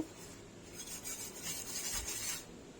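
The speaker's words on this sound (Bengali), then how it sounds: "এই তো ভালো করে ঘষে মেজে নিচ্ছি" Steel wire scrubber rubbing back and forth over a bathroom fitting during a deep clean, a faint, steady gritty scraping without talk.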